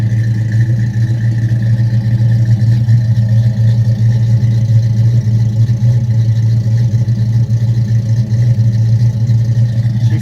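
A 1983 Ford Mustang GT engine runs steadily with a deep, constant low rumble and hum, loud and close, with no speech. The car had a vacuum leak near the carburetor base gasket.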